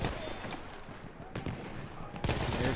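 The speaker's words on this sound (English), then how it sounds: "I'm gonna take him out with LMG" Bursts of light machine gun fire in the WWI shooter Battlefield 1 on the Lupkow Pass map, rapid loud rattling that continues throughout, with extra strong bursts at about a second and a half and near the end.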